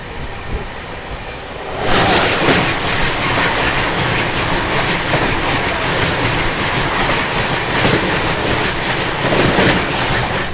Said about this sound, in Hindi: वो आ गई गणगौर एक्सप्रेस